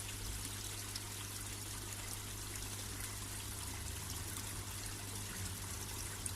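Water trickling and flowing steadily through a homemade koi pond overflow, a constant close wash of splashing with a low pump-like hum underneath, unbroken and without any talk.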